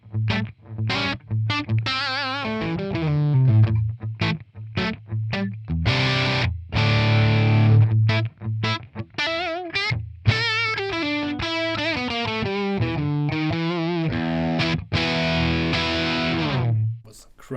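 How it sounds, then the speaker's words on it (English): A Les Paul electric guitar on its bridge pickup plays a crunchy, distorted riff through a ToneX ONE amp capture, with loud strummed chords and single-note runs ringing continuously. "let's start with the bridge pickup with the Les Paul."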